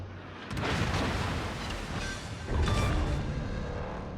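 Naval guns from a Kagero destroyer and other ships fire in World of Warships, heavy booms rolling in at a distance over a constant rumbling battle background, with two main bursts.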